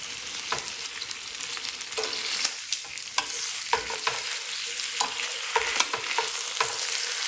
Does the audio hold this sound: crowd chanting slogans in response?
no